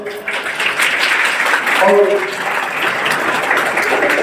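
An audience at a school award ceremony in an inter college claps in dense, sustained applause, with a voice speaking over it throughout.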